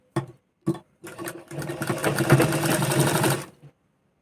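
Sewing machine stitching a seam on a one-piece dress, heard first as a few quick bursts and then as a steady whirring run lasting about two seconds before stopping, loud and close.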